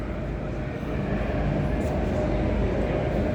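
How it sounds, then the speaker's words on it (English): A freight train rumbles steadily past a station platform, a continuous broad roar at moderate loudness with no talking. "Is the freight train going past?"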